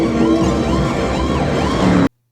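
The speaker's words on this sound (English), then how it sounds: "Oh, well, there's an ambulance." A wailing ambulance siren in the 1979 film Mad Max, loud and close with a rising and falling sweep, plays alone and then cuts off abruptly.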